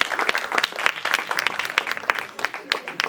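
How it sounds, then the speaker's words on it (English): An audience at the senior finals of an international debate competition breaks into applause, dense uneven clapping from a roomful of people that carries on steadily for a few seconds. "Give a huge round of applause,"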